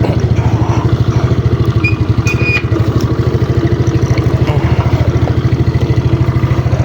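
A Yamaha Mio scooter with a newly installed engine block idles steadily nearby, with a loud, even putter and light mechanical clatter running throughout, and no speech.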